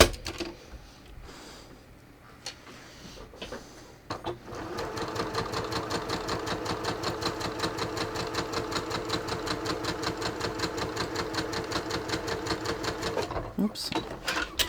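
A home sewing machine stitching a stretchy center back seam with Seraflex thread, starting with a few handling knocks before running into a fast, even mechanical chatter that stops near the end, with a voice speaking over it.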